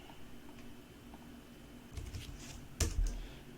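Computer keyboard typing entering drafting commands, a few soft, quiet keystrokes and clicks close by near the end against a faint background hum.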